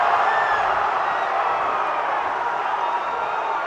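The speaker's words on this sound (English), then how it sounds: "Now the crowd is completely, insanely fired up." A college basketball crowd roars after a block, a dense, steady wash of cheering and shouting that holds loud throughout.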